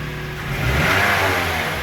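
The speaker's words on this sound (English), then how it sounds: "Now, let's accelerate and we feel how the engine sounds." Toyota Vitz from around 2000 accelerating, its engine note rising and swelling in a steady rev that holds loud and close through the short stretch, no voices over it.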